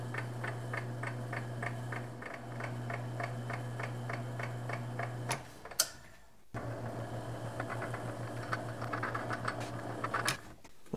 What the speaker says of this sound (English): So I'm using what's called a form tap or a roll tap rather than a cutting tap.